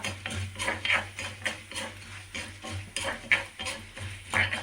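Drumstick leaves for chutney are fried and stirred in a pan, with rhythmic scraping strokes and light metallic clinks of the spatula repeating about once a second over a soft sizzle.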